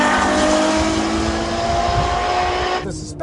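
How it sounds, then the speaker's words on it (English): A Ferrari F12 Berlinetta's engine holds a loud, sustained high-pitched tone close by, cutting off abruptly near the end, with a voice speaking over it. "The engine is the star of the Ferrari F12."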